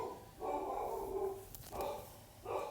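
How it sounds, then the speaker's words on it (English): A dog barks a few times in the background, three separate bursts spaced about a second apart, fairly distant and muffled. "Can y'all hear my dog barking?"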